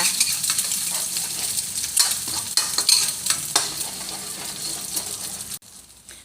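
Eggs with garlic are stir-fried in a hot pan, a steady close sizzle broken by repeated spatula scrapes and taps, running for several seconds before cutting off abruptly near the end.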